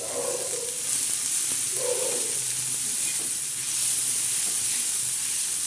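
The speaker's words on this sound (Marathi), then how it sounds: "ही बघा ही मिरची आता आपण तळून घेऊ" Green chillies frying in oil for a hand-ground chilli thecha, a steady close hiss and sizzle with occasional soft stirring scrapes.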